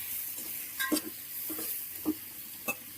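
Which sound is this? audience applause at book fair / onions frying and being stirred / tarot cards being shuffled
onions frying and being stirred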